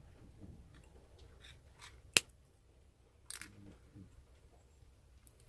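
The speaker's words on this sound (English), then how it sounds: "To finish off these 2 wires, I'm going to cut it about there." Jewellery wire snipped with cutters while finishing a wire-wrapped statement pendant, one sharp close click in a quiet room with a few faint handling taps around it.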